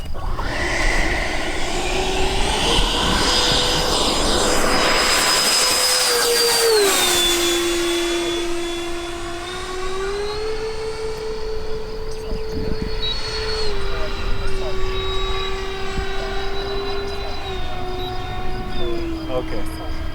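A homemade radio-controlled Citation M2 model jet taking off on its maiden flight, its turbine whining loudly with a steady high-pitched tone that drops in pitch as it passes and recedes into the distance.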